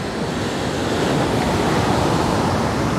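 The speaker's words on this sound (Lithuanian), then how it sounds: "Didžiausias bangas, koks esu matęs gyvenime." Loud, continuous roar of heavy ocean surf off Madeira, a broad crashing wash of large waves close by, steady throughout with wind noise.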